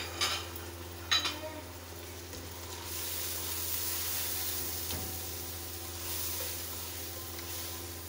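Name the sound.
tomatoes and spice masala frying in oil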